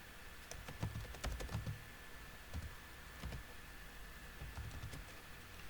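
Typing on a computer keyboard, with quiet bursts of clicking keystrokes in irregular clusters and short pauses between them, close by and soft against a faint steady hum, with no talking.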